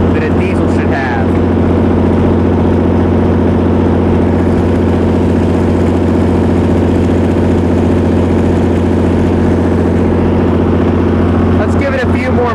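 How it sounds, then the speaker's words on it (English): A Perkins diesel generator engine idles smoothly and evenly at close range, a steady low drone with constant loudness throughout and no load change. "smooth, even sound that a diesel should have."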